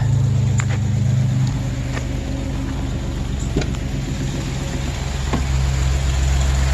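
A 2008 Express van engine, running with no coolant, idles with a steady, low mechanical hum and faint rattles, close and continuous, no talking.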